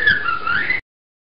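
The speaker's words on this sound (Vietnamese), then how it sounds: "Con vẹt." A parrot gives a single clear whistled call lasting under a second, steady and moderately loud, then silence.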